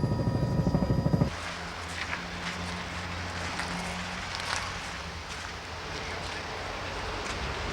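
Steady rotor whir of a rally helicopter, loud and continuous, joined by rushing wind-like noise after a sharper, thumping opening.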